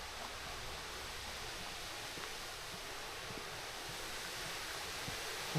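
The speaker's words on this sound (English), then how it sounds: "Waterfall's pretty loud." A constant, broad rushing roar of a waterfall in Kamō, Japan fills the air, steady and fairly loud with no breaks.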